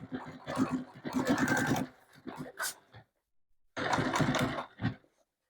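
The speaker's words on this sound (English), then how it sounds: "we are going to sew to here" A sewing machine stitches a bound convertible garment bag in close bursts of rapid mechanical whirring, two longer runs separated by a short stop and a pause.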